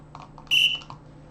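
A short, high-pitched whistle tone, steady for about a quarter second, rising clearly above a quiet background hum.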